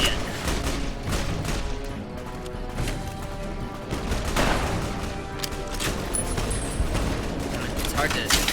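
Bursts of gunfire crackle in Fallout: New Vegas, a dense volley mixed with game sounds and a voice talking over it.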